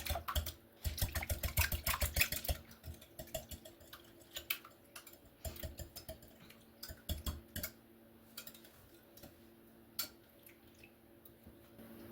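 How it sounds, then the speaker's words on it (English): A whisk beats chicken eggs in a bowl for a spinach quiche: a fast, dense clatter of wire against the bowl for about two seconds, then scattered lighter taps and clicks, close by, with no talking. "I'm going to get my whisk, and I'm going to whisk all this together."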